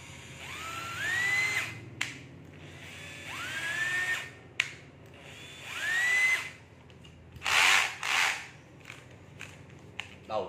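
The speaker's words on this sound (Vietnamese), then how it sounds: "Vua Khoan Makita 12W." Makita 12V cordless drill with a self-locking chuck and two speed settings, run in three repeated bursts that whine up in pitch and wind down, followed by a few shorter revs and clicks, close up.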